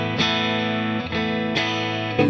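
Sustained distorted electric guitar chords ring out through a Vox AC30 and a Fender Deluxe Reverb Reissue 68 tube amplifier, with a new chord struck roughly every second.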